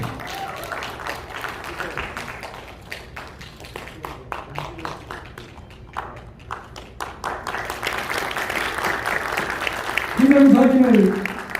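An audience at a political party event claps to welcome two young university students. The clapping is scattered and moderate, picks up toward the end, and a voice comes in briefly over it.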